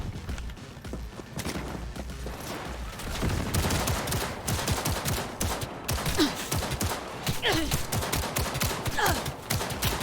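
Rapid bursts of gunfire in the video game Cyberpunk 2077 as robots are shot, dense repeated shots and clattering impacts growing louder and continuing in rapid volleys.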